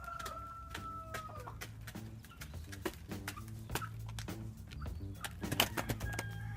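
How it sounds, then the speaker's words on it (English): Meat chickens at corn feeding time, with a busy chorus of clucks and short calls from several birds close by, overlapping with scattered pecking and clicking sounds. "I give the the birds some corn before, about an hour before they go to bed"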